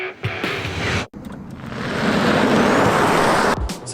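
A Tesla Model 3 Performance accelerates hard on a twisty road, and a loud rushing roar of road and wind noise swells and holds steady after a brief gap near the start.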